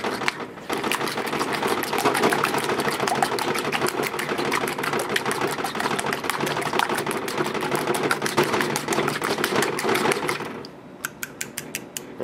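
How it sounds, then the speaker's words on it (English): Egg mixture for French toast being stirred briskly in a bowl, a rapid, steady clatter of utensil against the bowl running for about ten seconds before trailing off into a few separate taps. "So here I'm going to just stir it all up."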